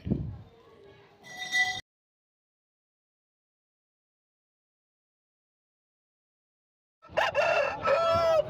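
A rooster at a weekly village market in Rayachoti, Kadapa district, crows in two bursts, a short one at the start and a louder, harsher one near the end, separated by a long silence.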